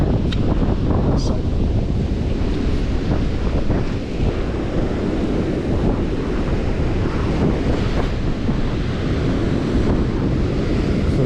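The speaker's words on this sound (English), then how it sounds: "it's just keeping it above these waves, because some of them could be 2 metres I'd say" Ocean waves up to about two metres surging and breaking along the shore during sea bass fishing, a steady loud roar of surf mixed with buffeting wind noise on the microphone.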